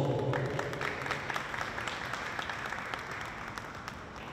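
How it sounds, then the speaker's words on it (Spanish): Audience applause at an Ecuadorian flag raising ceremony, a dense, steady wash of clapping that holds at an even level throughout, with no voices over it. "Un aplauso"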